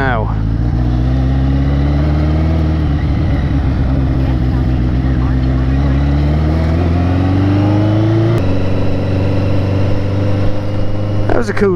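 Motorcycle riding along a wet causeway, a loud continuous engine drone with shifting pitch as it rolls through water, close up and filling the whole clip.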